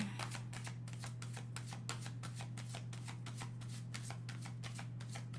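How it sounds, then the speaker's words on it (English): A deck of tarot cards is shuffled in a quick, even series of soft riffling slaps, close and quiet over a steady low hum, with no talking. "I also wanted to pull an overview card."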